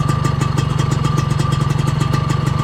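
A Suzuki RGV120 two-stroke motorcycle engine runs steadily with the clutch being pulled and released, giving a loud, close, rapid pulsing putter with a constant low hum and light mechanical clatter throughout.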